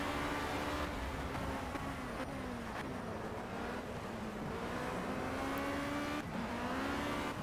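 A Formula C single-seater engine in the Project Cars racing game at Snetterton drones steadily and loudly throughout, its pitch rising and dipping through gear changes with a couple of downshifts into a corner, and no talking over it.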